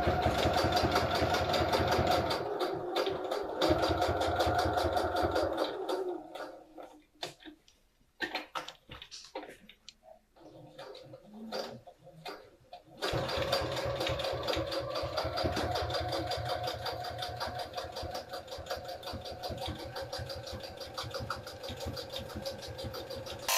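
A sewing machine top-stitches a fabric tool caddy in a loud, rapid mechanical run, stops for a few seconds with faint handling sounds, then resumes its steady stitching.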